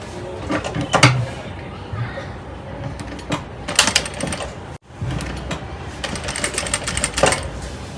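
A sewing machine stitching piping onto a blouse, running in close rapid mechanical bursts with short pauses between, over faint background noise.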